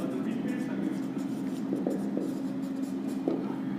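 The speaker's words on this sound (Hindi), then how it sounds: "यहाँ पे हम लिखेंगे बाय सीताराम्स कैपिटल" Pen writing on paper while entering a partnership capital account, soft scratchy strokes in short bursts over about four seconds, close and quiet, with no talk.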